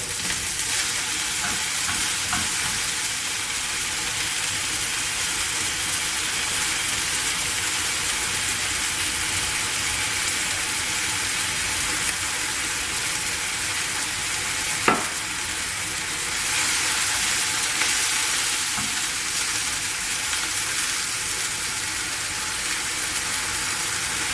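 Spring mushrooms, including large mature porcini, sizzle steadily in a hot pan for the whole stretch, with a brief sharp clack of the pieces being turned partway through and no talking.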